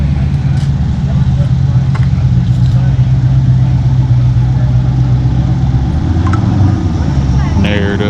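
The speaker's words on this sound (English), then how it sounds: "Here comes a little Fox body Mustang." A Fox body Mustang with a narrowed rear end and a big motor rolls in at an outdoor harvest festival car show, its engine a steady low rumble throughout as people talk nearby.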